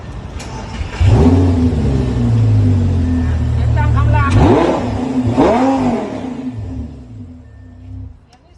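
A Lamborghini hypercar engine fires up with a loud burst, then settles into a close, throaty idle broken by several rising and falling revs before easing off.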